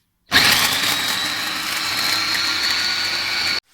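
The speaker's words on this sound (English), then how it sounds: "Now we're going to mix it in the food processor." A food processor whirs steadily as it finely chops celery, a loud, even motor drone with a high whine that starts abruptly and runs unbroken for about three seconds before cutting off.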